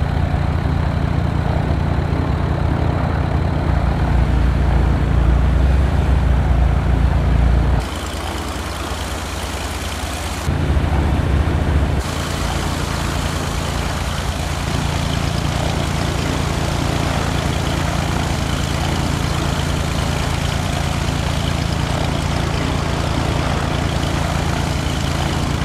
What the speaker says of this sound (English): Great, you're now in a Piper Cub.